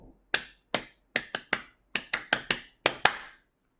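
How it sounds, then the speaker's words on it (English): Twelve or so crisp, separate hand claps at a lunchtime political rally for Singapore's GE2020 election, sharp and close, in an uneven rhythm with short gaps, with no voices over them. "let's clap for Singapore"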